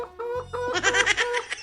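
A sick hen clucks close by in a quick, loud burst of rapid clucks, heard alone without talking.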